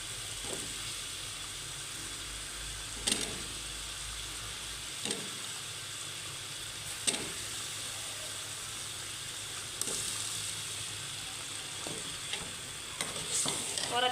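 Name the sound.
potatoes frying for aloo matar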